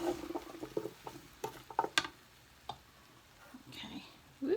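Sausage pieces being stirred in a casserole pot, giving a few short wet scrapes and clatters, irregular and close, with a pause and then a brief final scrape.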